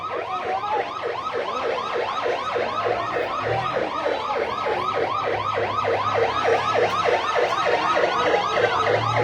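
A fire service vehicle arrives at a market fire in Jirani Bazar, its siren wailing in a fast, repeating up-and-down yelp that stays loud and continuous, with a low engine rumble beneath.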